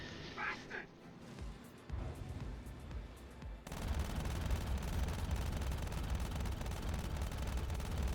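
Ship guns fire in a dogfight during a Star Citizen bounty hunt flown in an Aurora MR, a dense, continuous roar of rapid fire that starts partway through and stays loud after some quieter game noise.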